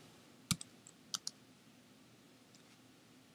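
A few scattered keystrokes on a computer keyboard while code is typed, heard as sparse, close, sharp clicks separated by pauses against a quiet room.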